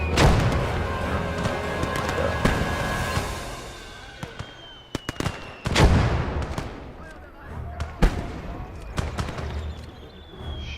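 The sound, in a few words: mortar firing in a video game (Ostfront)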